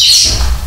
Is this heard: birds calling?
yes